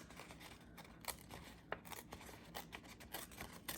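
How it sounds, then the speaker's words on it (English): Sheet of paper ripped slowly and carefully by hand for a junk journal tag, faint close tearing crackles in short bursts against a quiet background. "So I'm gonna carefully rip this."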